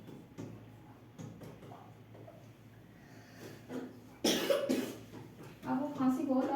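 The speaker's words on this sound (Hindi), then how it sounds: "अब वो खांसी बहुत आ रही है" A person talks, then breaks into a loud, harsh burst of coughing up close, followed by more coughs and voices.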